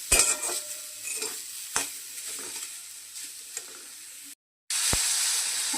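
Grated coconut cooks with palm jaggery and cardamom in a pan, a soft sizzle broken by sharp scraping knocks of a spoon stirring and pressing the filling, with a brief silent gap near the end.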